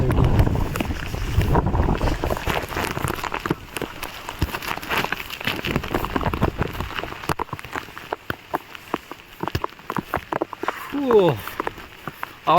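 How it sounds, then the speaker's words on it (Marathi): Strong wind gusting on a narrow hill track in light drizzle during an off-road mountain ride, a loud rushing rumble buffeting the microphone early, then easing into scattered rattles and patter while people talk. "हवा जोरदार चालू आहे"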